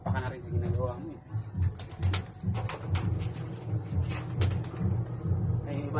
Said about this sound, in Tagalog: Ang kalapati dito sa kapitbahay.